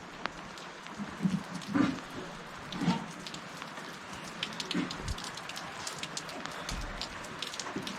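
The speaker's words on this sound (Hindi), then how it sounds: "बहुत बारिश हो रहा है यहाँ तो।" Steady heavy rain patters over everything in Gaichawan village on the Kedarkantha trek, a dense hiss of drops with scattered louder splashes and brief thuds, and no voices.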